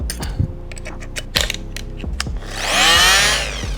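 A Dnipro-M MF-42SEQ oscillating multi-tool, first several sharp handling clicks and knocks, then the tool buzzing loudly against wood in a rising, sustained drone.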